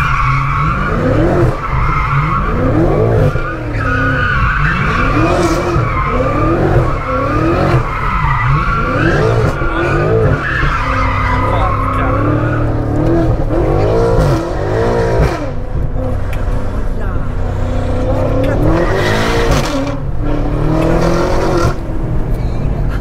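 A BMW M5 Competition drifts in circles, its tyres squealing in long, wavering howls over a steady, loud engine roar that rises and falls with throttle blips throughout.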